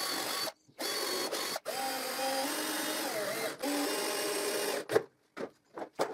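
A power drill or driver whirs in several sustained bursts, then short stop-start pulses, driving screws through a wood strip into a crosscut jig against a tabletop, close and alone without speech.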